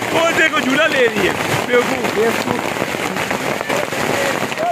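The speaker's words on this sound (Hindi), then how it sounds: "बारिश शुरू है, काफ़ी बारिश हो गई है, ओले पड़ रहे हैं" Heavy rain with hail pours onto surfaces outdoors in a hill-country setting, a steady dense patter that continues throughout, with voices talking over it.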